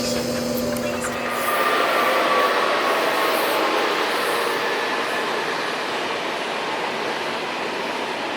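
A KTX high-speed train runs near Cheonan-Asan Station with a steady, loud interior rush of wheel and air noise. Faint tonal hum shows early on and fades.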